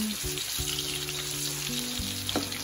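Garlic frying in a pan of oil: a steady, close hiss with soft crackle running throughout, no voices.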